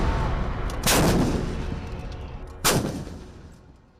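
An Indian Dhanush howitzer artillery gun fires two heavy booming shots about two seconds apart, each a loud blast followed by a long rolling echo that fades away.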